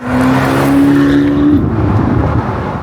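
A new Corvette LS6 V8 engine starts and rumbles loudly up close: a steady droning tone at first, then a rougher, choppy, lumpy idle.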